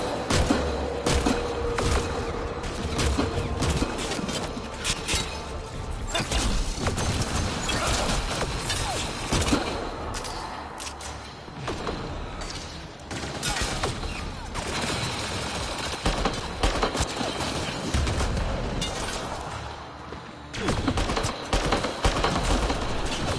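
Dense, continuous bursts of rapid video game gunfire with heavy thumps and impacts, loud and sustained throughout, with brief lulls between volleys.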